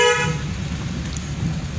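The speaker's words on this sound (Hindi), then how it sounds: "हॉर्न मारो" A car horn toots briefly at the start while a car is driven in first or second gear through a narrow lane, followed by the low hum of the running vehicle.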